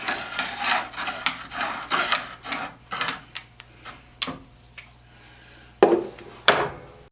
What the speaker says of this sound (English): all I really need to do is just scribe a mark